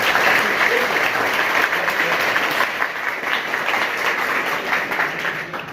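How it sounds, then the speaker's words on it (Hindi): A crowd at a school gathering in Varanasi breaks into loud, sustained applause, a dense, steady wash of clapping hands that fades slightly toward the end. "ऐसे लोगों के लिए जोरदार ताली होनी चाहिए।"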